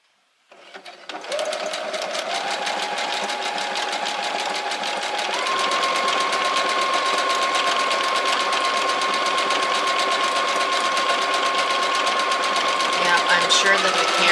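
A sewing machine does fusion stitching on fabric with a steady, close whirring hum that runs almost without a break, its motor speeding up in steps as it goes.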